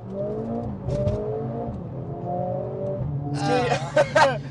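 A Mercedes A45S AMG's four-cylinder engine revs on a downshift while people talk inside the car, rising to a sharp, loud burst of revs near the end.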